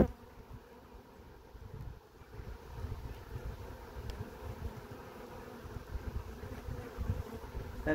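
Honey bees from a caught swarm buzz in a steady, dense low drone that stays close and continuous, with light wind noise over the microphone and no talking.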